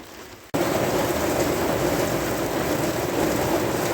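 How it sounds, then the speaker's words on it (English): A sudden wall of heavy rain begins after a brief quieter moment, heard from inside a van, then roars steadily with low rumbling underneath as a thunderstorm passes. "Little thunderstorm going through."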